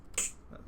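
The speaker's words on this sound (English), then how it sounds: "see what the snare sounds like" A single sharp snare hit cracks once, dry and fairly quiet, then fades into a faint background hum.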